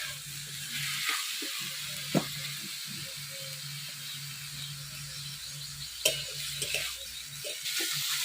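Potatoes frying in a pan during Bengali village cooking, giving a steady, soft sizzle with a few sharp clicks and pops; nobody speaks.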